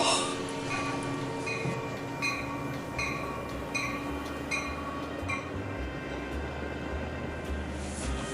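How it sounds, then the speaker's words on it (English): A train pulls in with a steady, heavy rumble and a regular series of metallic clacks from the wheels. It sounds fairly close and continuous, and no one speaks. "Here comes our train."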